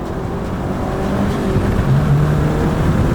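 A Mazdaspeed 3 hot hatch pulls hard in second gear, its engine note climbing steadily in pitch under wide-open throttle, loud and close from inside the car, no voices.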